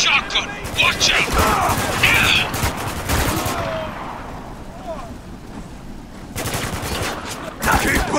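Heavy gunfire rages through a firefight in the video game Spec Ops: The Line during a sandstorm battle in Dubai, with dense bursts of shots, booms and shouting voices over a constant loud rumble, easing midway before fresh volleys.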